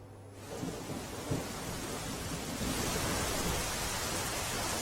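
Heavy rain pours steadily in a storm, a dense broadband roar that swells louder in the second half, with occasional rumbles of thunder underneath and no voices.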